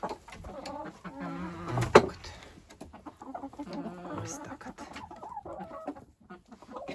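Hens clucking and murmuring around a farmyard on a frosty day, with a sharp squawk partway through and a person speaking briefly over the birds.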